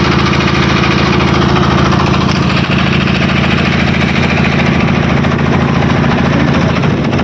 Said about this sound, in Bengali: ট্রলারের শব্দ হয়তো বা সাউন্ডটা একটু ডিস্টার্ব দিতে পারে।